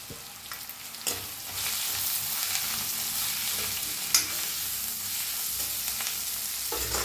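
An onion mixture frying in an iron pan, with a steady sizzle broken by a few sharp stirring clatters, close and alone without speech.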